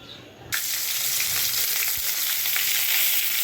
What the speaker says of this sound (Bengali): এখন তেল দিয়ে মাছের কাটাগুলো ভেজে নেব